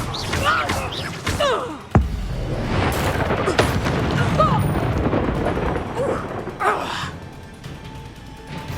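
Spells cast in the Hogwarts Legacy video game, a string of bursts and whooshing impacts with booming hits over busy battle noise, while voices call out throughout.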